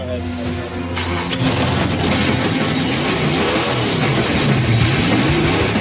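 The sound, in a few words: hot rod car engine starting up and running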